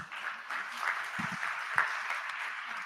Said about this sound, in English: Ladies and gentlemen, once again, a big round of applause